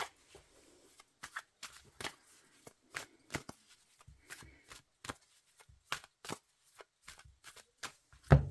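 Oracle cards being shuffled by hand in a quiet room, a run of crisp, irregular riffling flicks and slaps, close and fairly soft, with a louder knock at the very end.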